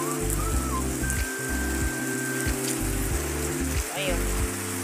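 Rain falling on a farm in Zamboanga, Philippines, a steady patter under a low rhythmic thumping and occasional faint whistles, heard continuously at moderate level.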